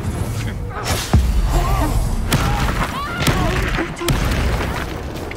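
Fiery Incendio spell blasts in the video game Hogwarts Legacy land as booming thuds amid combat effects and in-game character voices, several hits spaced over a few seconds.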